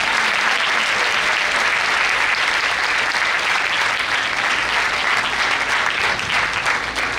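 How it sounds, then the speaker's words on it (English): Sustained, dense applause from a large audience at a Christmas choir celebration, loud and steady throughout with no speech over it. "But I think an exceptional big clapping goes"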